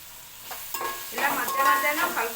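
Onions fry in a pan for egg curry: a soft sizzle that swells louder partway through, with a few stirring scrapes over the hiss.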